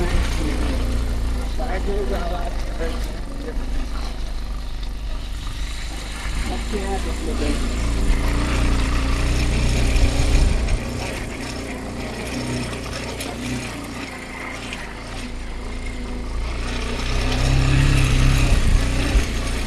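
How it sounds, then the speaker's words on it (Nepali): Steady low motorcycle engine drone with rising and falling revs, close and loud, with people talking over it. "भाइ चाहिँ यहाँ बाइक चलाउनु आउँछ"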